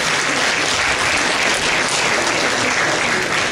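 Dense, sustained applause from a large audience at a KVN comedy team final, steady and loud throughout with no gaps, filling the hall as a continuous wash of clapping.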